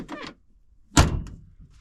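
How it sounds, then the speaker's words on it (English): A faint latch click, then a solid thunk of a Fox-body car door shutting, close by, with a short rattle afterward. "the door opens and closes really, really nice"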